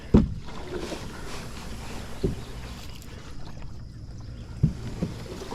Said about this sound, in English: You can hear the canoe going over the grass.